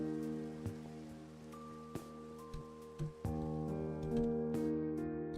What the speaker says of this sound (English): Now I just gotta wait around for this rain.